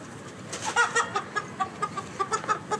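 A hen clucks in a quick, irregular series of short calls, close by and fairly soft against a quiet background.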